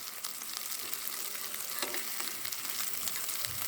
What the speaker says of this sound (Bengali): আমি কাঁচা লঙ্কা দিয়ে ধনের পাতা দিয়ে মাছ ফ্রাই করছি।